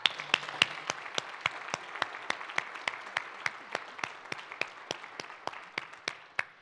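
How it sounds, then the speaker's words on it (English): Applause at a nuclear industry State of the Industry 2022 address, heard as sparse, sharp individual claps spread across a modest audience, fairly quiet and steady throughout without voices. "Let's hear a round of applause for that."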